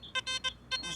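An XP Deus 2 metal detector sweeping over a coin buried 4 to 5 inches deep gives a bright electronic tone in a quick burst of short beeps, close and clear, with faint background noise.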